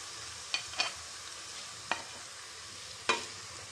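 Whole spices frying in oil in a pan for methi aloo salan, a soft steady sizzle throughout with a few distinct stirring scrapes and clicks of a spoon against the pan.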